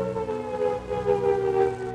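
Civil defense air raid siren wailing loud and continuous, its tone slowly rising and falling in pitch with no voices.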